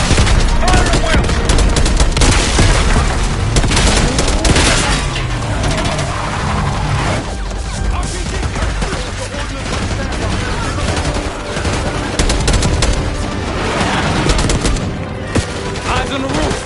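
Intense video game battle gunfire, with dense machine-gun bursts and rapid rifle shots crackling almost nonstop and very loud, while voices call out now and then beneath the shooting.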